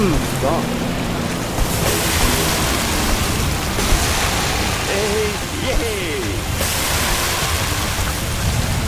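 A cartoon super fire truck sprays water onto a fire at an airport, giving a steady, loud rushing hiss that runs the whole time beneath animated voices and talk.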